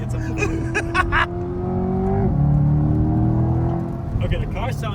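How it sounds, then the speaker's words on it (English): A Corvette C8 engine revs hard while drifting, its loud, close-up tone rising and falling and then climbing again in a sustained roar, with people talking over the start and end. "Okay, the car sounds sick."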